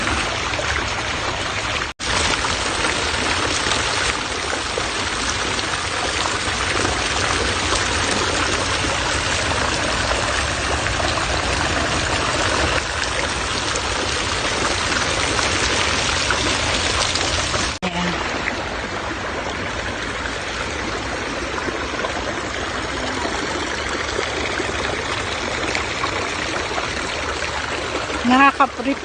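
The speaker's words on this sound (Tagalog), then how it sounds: "Nakaka-refresh yung ingay ng tubig ko." A stream flows steadily nearby in a park, a continuous rushing and trickling wash of water that fills the whole stretch, with faint voices now and then.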